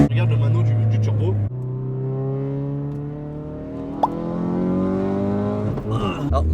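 A Ford Focus RS turbocharged engine revs hard, rising and falling in pitch over several seconds, with a brief chirp midway and talk underneath.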